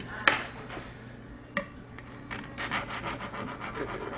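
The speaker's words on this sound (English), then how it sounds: "just start filing that out" A metal file rasping at the plastic nock of a carbon or aluminum arrow, close up, with short sharp scrapes early on followed by a series of quicker repeated strokes.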